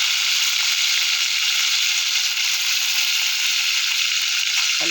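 Whole spices, almonds and cashews frying in a pan for Mughlai biryani give off a steady, even sizzle that holds alone without a break.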